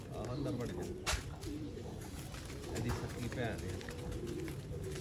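Pigeons coo steadily at close range in a Sialkot pigeon-keeping setting, a soft continuous murmur of calls running through the whole stretch with some background noise.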